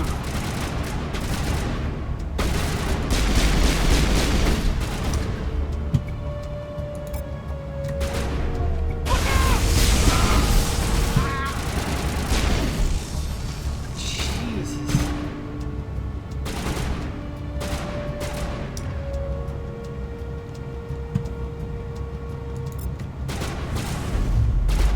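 Gunfire in the video game Mass Effect: sustained bursts of automatic shots with sharp cracks and heavy booms, layered over mechanical clatter and faint tonal game sounds, continuous and loud throughout.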